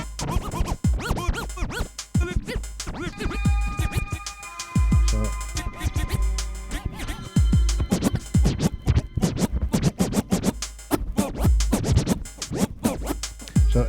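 Vinyl record scratching on a DJ setup with the crossfader set to a sharp curve, a dense run of quick choppy scratches and cut-in bursts over about fourteen seconds, loud and close with no talk.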